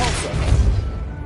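Depulso force spell cast in Hogwarts Legacy: a single heavy, booming blast thumps out and quickly decays into a fading rumble.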